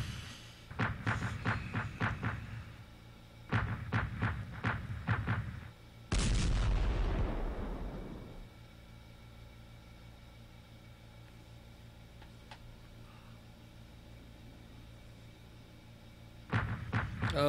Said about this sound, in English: Artillery position's just annoying me.